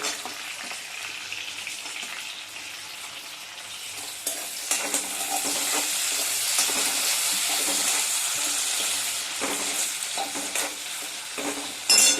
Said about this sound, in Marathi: शेंगदाणे थोडे भाजल्यानंतर त्याच्यामध्ये आपण लसूण टाकायचा आहे